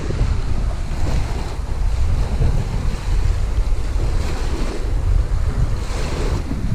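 Wind and lapping lake water roar steadily as a boat is pushed into the lake, with broad low rumbling wash and no clear distinct splashes standing out.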